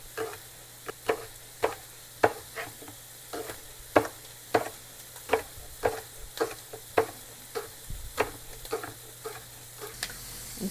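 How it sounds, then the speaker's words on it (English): Sausage browning in a pan for a caramelized leek and sausage quiche, sizzling steadily with repeated sharp scrapes and stirs at an uneven rhythm, close and moderately loud, with no talking. "I'm just getting this sausage browned up here"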